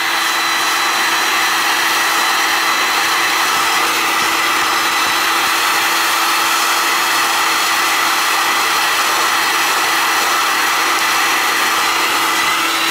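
A heat gun blows steadily on a gold-bearing chip on a circuit board, a loud, continuous airy roar with a faint hum that runs unchanged and unbroken throughout, with no talking.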